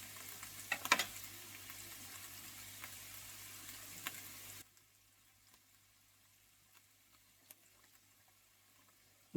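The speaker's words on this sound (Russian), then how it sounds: "Грибы наши тушатся" Mushrooms stewing over low heat in a pan give a soft sizzle and faint bubbling at first, then the frying drops to a quiet, barely audible simmer with a few small ticks and pops.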